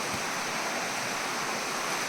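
Hukuki waterfall in Bilaichhari pours in a continuous dense roar of falling water, loud and steady throughout with no voices.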